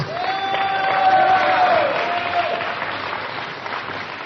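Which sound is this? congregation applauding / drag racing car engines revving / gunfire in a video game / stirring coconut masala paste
congregation applauding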